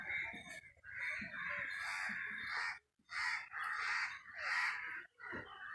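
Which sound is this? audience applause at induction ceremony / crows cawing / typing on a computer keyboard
crows cawing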